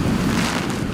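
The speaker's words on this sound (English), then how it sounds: "Big waves on the biggest Great Lake." Big wind-driven waves on the largest Great Lake make a dense, loud rush of surf and gusting wind buffeting the microphone, continuous and close with no pauses.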